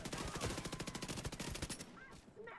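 Rapid automatic gunfire in The Division 2 hammers out in a fast, even rattle for almost two seconds and then stops. Faint scattered game sounds follow.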